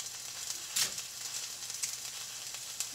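Chicken pieces fry in a hot pan with a steady crackling sizzle, punctuated by a few sharper pops and spits of oil, fairly close and without any talking.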